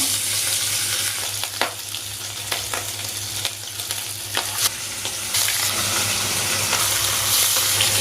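Pieces of hilsa fish fry in hot oil in a wok, giving a steady close sizzle studded with sharp pops and crackles and no one speaking.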